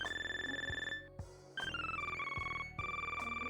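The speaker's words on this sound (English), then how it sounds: "Nice ringtone." A phone ringtone plays as a bright electronic melody of sustained tones, with short pauses between phrases. It is faint but clear, with no other sounds.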